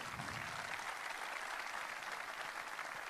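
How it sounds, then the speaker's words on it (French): Audience applause at a regional eco-innovation awards ceremony greets a guest onstage: a steady, even wash of many hands clapping, quiet and distant, continuing throughout without talk. "on accueille Monsieur Juppé sous vos applaudissements."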